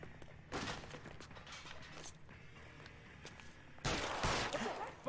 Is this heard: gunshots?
yes